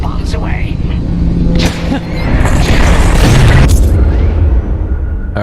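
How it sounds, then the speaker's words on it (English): Bomb dropped from a starfighter bursting into a loud, deep explosion with a long rolling rumble in the Star Wars: Squadrons flight combat game, heavy and close, swelling through the middle before fading. "Alright, hit 4 to drop a bomb."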